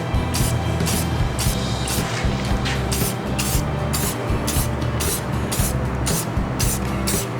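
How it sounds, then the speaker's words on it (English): Spray can applying a thin coating to a car tail light, a steady continuous hiss with rhythmic pulses as the nozzle is pressed in short bursts, close and loud without talk. "so you want to spray it carefully"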